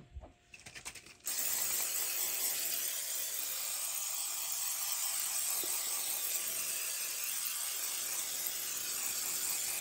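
A clogged can of Baker's Joy baking spray sputters, then gives a steady, fairly loud hiss. The spray runs for several seconds after a few short bursts at the start.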